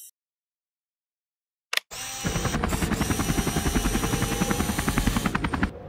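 Mini helicopters in Henry Stickmin buzz in after near silence, a sharp click followed by a loud, continuous rapid whirring flutter of rotors that holds steady and close.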